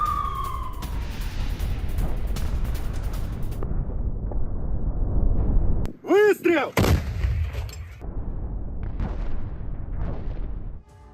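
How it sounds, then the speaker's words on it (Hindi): Russian howitzer artillery shelling on a frontline, a loud sustained roar of blasts and rumble, broken midway by a short wailing siren-like tone before heavy booming resumes and then drops off at the end. "हॉवित्जर गन से रूस ने बड़े हमले किए।"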